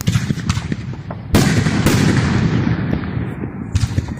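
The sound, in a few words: fireworks popping for Fourth of July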